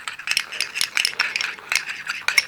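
A spoon stirs papaya pulp face scrub in a small bowl, making a quick, irregular run of close scraping clicks and light rattles against the container.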